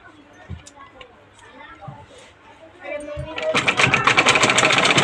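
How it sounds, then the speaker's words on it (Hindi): A sewing machine stitching the lining of an Anarkali suit made from an old saree starts up after someone speaks, whirring with a fast, close, rhythmic clatter for the final seconds. "इसके बाद ये कपड़ा अंदर करना है और ये अस्तर को हमें सिलना पड़ेगा यहाँ से।"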